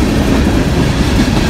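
A long freight train rolls past on the rails, a loud, continuous rumble with clattering wheels and rattling cars, steady and close throughout.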